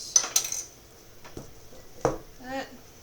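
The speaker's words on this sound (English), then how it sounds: "Stir all that together." A spoon stirs lemon chiffon cake batter ingredients in a mixing bowl, giving a few close clinks and scrapes against the bowl, followed by a brief voice.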